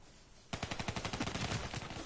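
CUDA gun firing in a video game, a fast, steady automatic burst of evenly spaced shots that starts abruptly and runs for about a second and a half, close and alone without talk.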